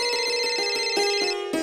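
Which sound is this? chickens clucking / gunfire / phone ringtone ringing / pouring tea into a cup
phone ringtone ringing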